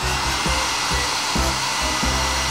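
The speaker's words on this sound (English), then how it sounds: "Super sneaker dryer ready" A sneaker dryer blows air in a steady, loud whoosh, its fan throbbing in a soft rhythm about twice a second, with no voices.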